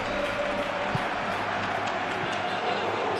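Steady, dense stadium crowd murmur from the eFootball PES football video game, a continuous wash of distant voices with a few faint claps and bumps, holding even throughout.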